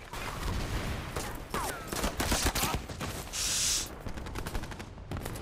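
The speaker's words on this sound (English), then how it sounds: "Oh, there's a machine gun around the top." Machine gun fire in a Pacific war TV series at Iwo Jima, rapid bursts of gunfire and scattered shots rattling loudly over battle noise, with a brief whistling sweep.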